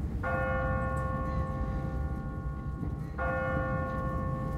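A church bell in The Walking Dead game tolls twice, two resonant strikes about three seconds apart with long ringing decay over a steady rumbling background, no voices.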